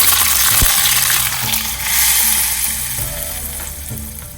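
Mustard seeds, two dried red chillies and curry leaves sizzle and crackle in hot tempering oil for Kerala-style kadhamba sambar, a steady loud frying hiss with a few sharp pops and clinks near the start.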